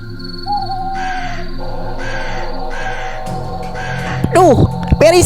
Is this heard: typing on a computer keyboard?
no